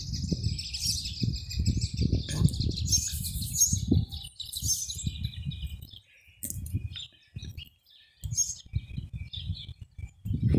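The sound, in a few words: small bird arriving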